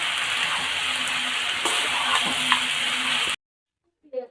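Cabbage with peas sizzles and fries in a pan while being stirred, a steady loud hiss with a few scraping knocks before it cuts off abruptly, followed by a brief faint sound.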